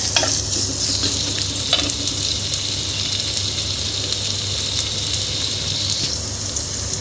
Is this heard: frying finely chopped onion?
yes